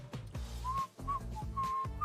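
A person whistles a tune in a run of clear melodic notes that rise and fall with short pauses, close and fairly loud, over a low background.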